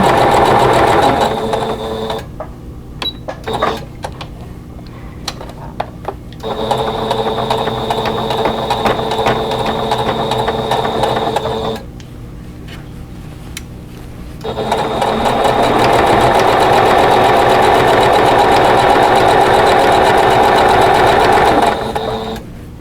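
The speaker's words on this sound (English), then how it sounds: "I'm going to sew the 2 together." A sewing machine stitching two sets of fabric pieces together for a table runner, loud, close, rapid mechanical whirring in long runs, stopping briefly twice with small clicks between bursts.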